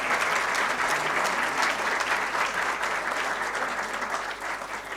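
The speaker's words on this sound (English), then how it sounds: "Can we have an applause for him?" An audience at a Delhi book launch for Vikram Sampath's Tipu Sultan history gives a round of applause, steady close clapping from many hands that fades slightly toward the end.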